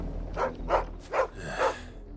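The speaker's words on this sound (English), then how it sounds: "Dog is probably barking at Chloe." A dog barks four times in a steady, evenly spaced series in the Final Fantasy XVI video game, the yelps close and moderately loud over a low ambient hum.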